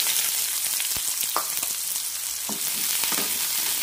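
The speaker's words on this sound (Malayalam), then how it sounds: "നന്നായി വഴറ്റി കൊടുക്കാം." Sliced onion sautés in hot oil for a cauliflower and red gram stir fry, a steady close sizzle with occasional scrapes of a stirring spoon and faint pops.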